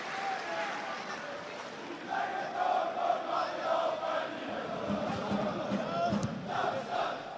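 A football stadium crowd at SV Darmstadt 98 versus SpVgg Unterhaching roars and chants in support of Darmstadt, a broad, distant swell of voices that grows louder as the home side attacks, under faint commentary.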